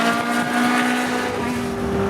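A Formula 1 race car drives past with a steady, loud, high-pitched engine whine that holds a sustained tone for about two seconds.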